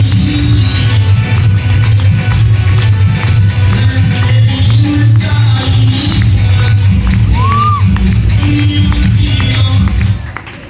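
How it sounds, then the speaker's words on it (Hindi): A large seminar audience claps and cheers in a dense, sustained roar that fills the hall steadily for about ten seconds and then cuts off at the end. "एक बार जबरदस्त तालियां डॉल्फिन बैनर के लिए"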